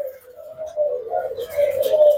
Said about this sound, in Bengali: সাদা রিংনেক ঘুঘু